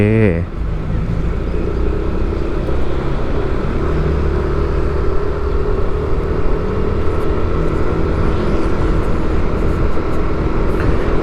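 A motorcycle engine drones steadily while riding with the throttle opened gently on a road, a continuous mid-level hum with low harmonics throughout, the faint rush of passing traffic behind it.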